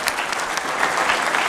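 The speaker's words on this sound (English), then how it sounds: "A round of applause for His Excellency." Applause from an audience after a speech at an official event, a steady dense wash of clapping at moderate level with no talk over it.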